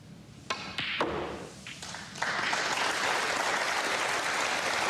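At a snooker semi-final of the English Open, a few scattered claps and cue-ball knocks give way to sustained, loud applause from the arena crowd that carries through to the end.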